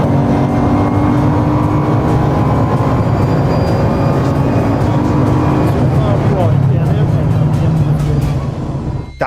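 A race car accelerating at full throttle out of a corner, its engine loud and close, the pitch climbing steadily as it builds speed, with a voice talking over it.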